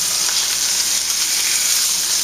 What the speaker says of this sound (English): So right now I'm browning some pork shoulder that I have rubbed with a spice mixture